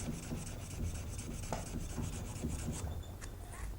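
A knife blade is hand sanded with sandpaper, worked into the plunge area in quick, even back-and-forth strokes that make a soft, regular rasping scratch, close and fairly quiet, with no talking.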